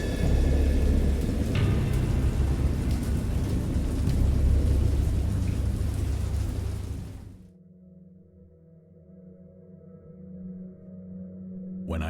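A thunderstorm sound effect under an audiobook reading: loud, dense rumbling thunder and heavy rain fill the opening seven seconds, then cut off sharply to a low, quiet hum.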